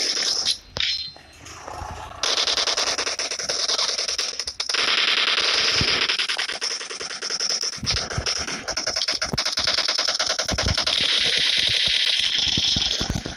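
Video game gunfire from the mobile shooter Payback 2: sustained, loud automatic bursts with crackling, scraping texture, mostly continuous with brief gaps, no talking.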